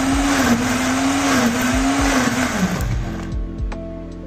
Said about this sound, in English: Just blend that a bit.